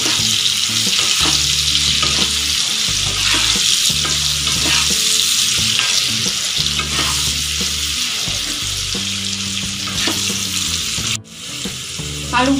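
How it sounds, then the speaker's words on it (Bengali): Potatoes with salt and turmeric fry loudly in hot oil, a steady bright sizzle with stirring scrapes, briefly dipping near the end. "দিয়ে আলুগুলোকে আমি ভালোভাবে ভেজে নেব।"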